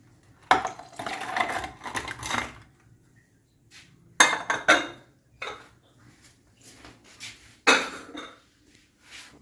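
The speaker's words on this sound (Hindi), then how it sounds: "और अब हम इसमें ऐड करेंगे बर्फ़।" Ice cubes dropped into a mango milkshake, giving three loud bursts of clattering, clinking cubes against the container with quieter rattles between them, close by and with no talking.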